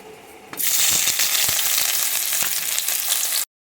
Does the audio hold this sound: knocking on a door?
no